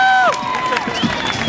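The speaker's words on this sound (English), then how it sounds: "can we get a round of applause for that performance?" A crowd at the E3 2011 expo cheers and applauds after a performance, a dense wash of clapping and whoops beneath a falling whistle-like tone and a voice, fairly close and loud.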